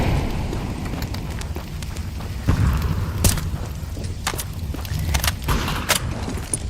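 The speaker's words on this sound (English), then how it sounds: "Throwing grenade" Grenade and incendiary blasts in a tactical shooter game, heard as a few muffled booms and thuds around mid-clip over a constant low rumble of battle noise, with sharp crackling bursts scattered throughout.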